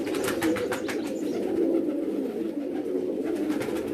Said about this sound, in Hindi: ये जी इनके प्रवासी कबूतर हैं